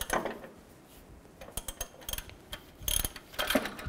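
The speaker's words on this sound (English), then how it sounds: "I'm just going to take a socket and a wrench, and as I tighten this down, it's going to pull the balancer outward." A socket wrench turns a puller to draw the harmonic balancer off a 2000-2006 Chevy Tahoe engine, producing close, irregular ratcheting clicks and metallic clanks in short bursts.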